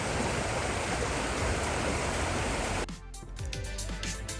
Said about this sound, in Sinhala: මේ තියෙන්නේ දියැලෙන් එන වතුර පාර තමයි